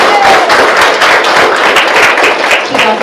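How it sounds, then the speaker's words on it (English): Applause from a school district meeting audience honouring a student with perfect attendance since kindergarten: dense, steady clapping from many hands throughout, close and fairly loud. "that's something to applaud"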